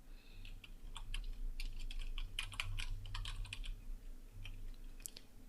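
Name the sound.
typing text on a computer keyboard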